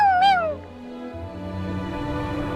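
A single cat meow from the Dune: Abyss video game opens, a clear falling cry in the first half-second, followed by quiet ambient game sounds with low tones.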